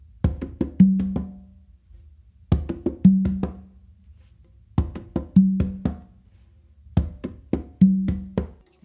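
A beat exercise played by hand across three congas, tumba included, with muffled bass and finger strokes each ending in a ringing open tone. The phrase repeats four times at a steady pace, close and unaccompanied.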